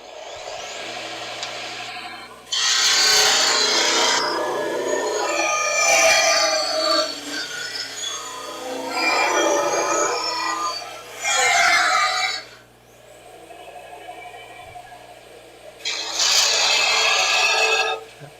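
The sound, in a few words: sander running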